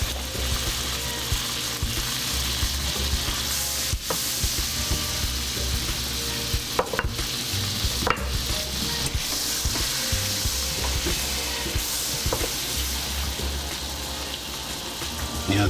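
Butter sizzles in a pan with the drippings left from frying chicken, a steady crackling hiss that runs through the whole clip with a few sharper clicks and scrapes, and no talk.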